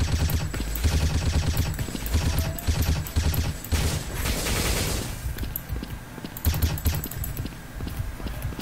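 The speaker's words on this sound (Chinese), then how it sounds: "那我们先把子弹打完再说。" In the shooter game 生死狙击 (Crossfire Legends), bursts of rapid gunfire from an M4 rifle rattle on and off in dense rhythmic volleys, loud and close, with game effects behind them.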